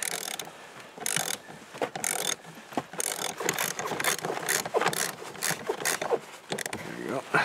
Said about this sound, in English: Let's go lightly with the ratchet here to suck it on that last little bit.